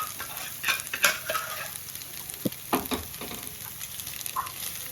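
Dill greens are sautéed in oil as a utensil stirs and scrapes the pan in irregular bursts over a soft, steady sizzle.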